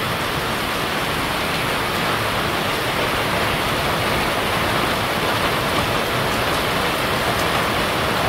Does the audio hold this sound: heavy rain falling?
yes